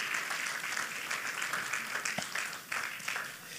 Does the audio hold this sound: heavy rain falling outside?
no